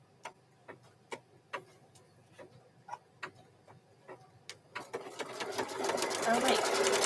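A sewing machine stitching a mug rug ticks in slow, evenly spaced stitches, close and fairly quiet, then speeds up into a dense continuous whirr near the end.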